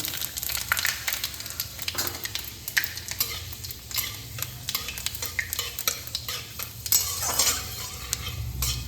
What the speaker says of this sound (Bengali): সর্ষের তেলে ফোড়ন দিয়ে দিচ্ছি। একটা শুকনো লঙ্কা হাফ চামচ, 5 ফোড়ন,